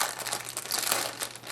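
A plastic protective bag crinkles and rustles close up as a red Samsung Seek phone for Sprint is unboxed, one short continuous burst of crackling with no talking.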